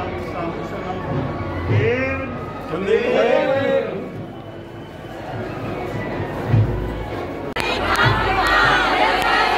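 A dense crowd of devotees shouting welcoming slogans in unison for Acharya Mahashraman in narrow streets near Gulab Bhawan, loud rising-and-falling chants in waves that swell and fade, with bursts of cheering.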